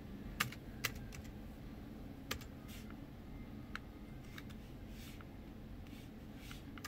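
Faint keystrokes on an iPad keyboard: scattered, irregular taps with a few sharper clicks over a quiet room hum.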